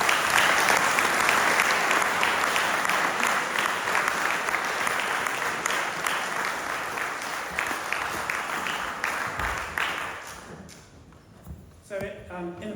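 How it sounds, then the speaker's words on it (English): Loud, sustained applause from an audience at a sixth form options evening, dense and steady for about ten seconds before thinning out into scattered claps and room noise. "So I'd like just to give you a round of applause first."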